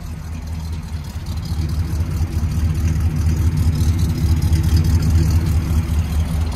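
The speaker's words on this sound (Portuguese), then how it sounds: "Olha o funcionamento do carro." A Ford LTD Landau engine runs at a steady idle, a close, continuous low rumble that holds even throughout, with no talking.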